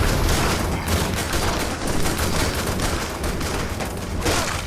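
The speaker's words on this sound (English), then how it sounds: "They just shooting the heck out of that body." Sustained gunfire from the animated show Legend of Vox Machina peppers a body in a dense, continuous barrage of overlapping shots, loud and unbroken throughout.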